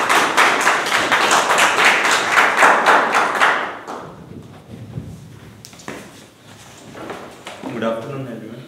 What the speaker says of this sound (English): can we have a huge round of applause for Toastmaster Harsh?